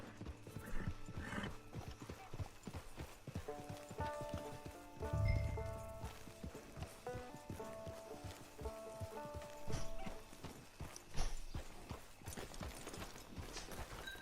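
Steady clip-clopping horse hooves on hard ground in Red Dead Online, with a horse whinnying partway through, set against soft ambient music and distant murmurs.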